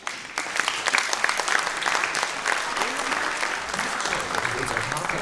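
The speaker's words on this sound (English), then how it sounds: "Please give them a big round of applause." A pageant audience applauds the judges at a Queens of Germany event, with steady, dense clapping from a large crowd that holds at an even level throughout.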